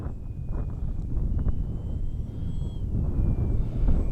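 A small H-King Bixler 3 RC plane flying in gusty wind, its thin motor whine faint and steady beneath loud, continuous rumbling wind buffeting throughout.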